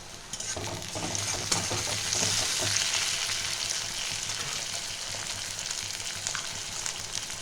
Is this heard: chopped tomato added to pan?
yes